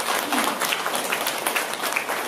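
A church congregation in Korea bursts into sustained applause after a sermon passage, with dense, continuous clapping from many hands that fills the room for the whole stretch.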